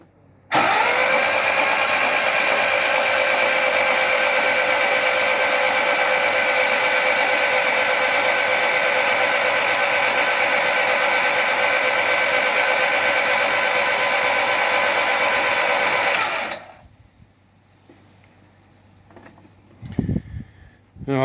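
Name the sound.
Vauxhall Firenza Lotus engine cranking on starter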